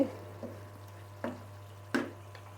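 Chicken pieces with head and neck frying in a pan, a steady soft sizzle broken by a few brief louder stirring scrapes, close and fairly quiet.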